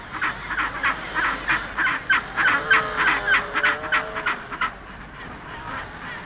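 Penguin adults and chicks call in a busy run of honking, squawking cries, rhythmic and fairly close, with a few drawn-out wavering notes in the middle before the calls fade.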